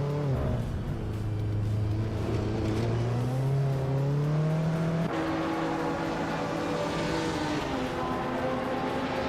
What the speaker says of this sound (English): Arayu Serial is driving a classic 1964 Alfa Romeo Giulia TI Super Toddy